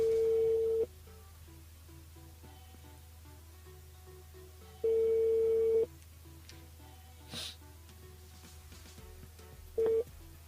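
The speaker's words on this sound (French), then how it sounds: "Déjà, on appelle Lucie." A telephone rings out during a live call to a listener on an FM radio broadcast, with steady ringback tones repeating at long, even intervals and quiet studio hum in the gaps.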